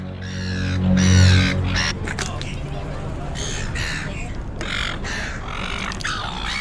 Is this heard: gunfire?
no